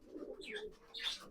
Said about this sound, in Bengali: মন্ডি সাদা বা মুক্সি পায়রা বলে।